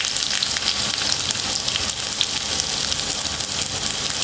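Sliced onions sizzle loudly in hot oil with popped mustard seeds in the pan, a dense, steady frying hiss close up with faint stirring and no talking.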